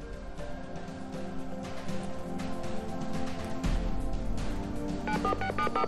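Telephone dialing tones on a live call-in television show, a string of short beeps near the end over a steady bed of studio music.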